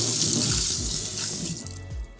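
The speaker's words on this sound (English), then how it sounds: "I'm gonna rinse my fingers real quick." Kitchen tap runs steadily as fingers are rinsed under the stream, a close, continuous splashing rush of water into the sink with no talking.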